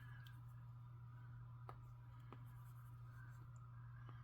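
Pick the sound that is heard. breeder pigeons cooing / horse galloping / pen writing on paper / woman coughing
pen writing on paper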